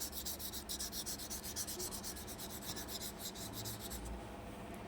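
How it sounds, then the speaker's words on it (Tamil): A crayon rubs back and forth on paper while a cloud drawing is coloured in, giving quiet rhythmic scratchy strokes close by that stop near the end. "2வது மேகத்துக்கு கலர் பண்ணிக்கிட்டு இருக்கேன்"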